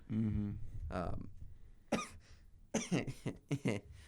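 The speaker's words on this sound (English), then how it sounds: "That's the most pitiful cough I've ever heard." A person coughs several times in short, sharp bursts close to the microphone, with a brief voiced sound at the start.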